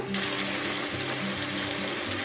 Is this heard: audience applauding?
no